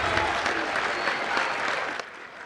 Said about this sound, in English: A big round of applause for those guys for doing that for us today.